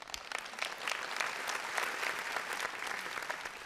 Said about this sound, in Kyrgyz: Нарын командасына кол чаап коюңуздар.